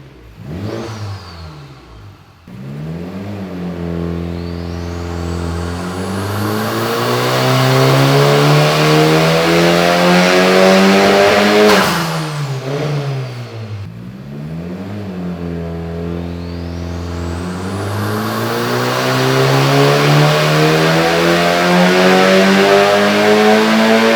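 A Honda Civic Type R FK8 roars on a dyno in long, loud wide-open pulls. The engine rises steadily in pitch through the gears, drops back between runs, then climbs again, with no voices over it.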